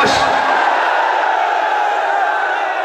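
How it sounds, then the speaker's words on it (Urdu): A large crowd at a Kashmir and Al-Quds rally roars a slogan in unison, a loud sustained collective shout that swells at the start and holds steady, dense and close throughout. "وہ کم از کم اس طرح دا نعرہ لاؤ"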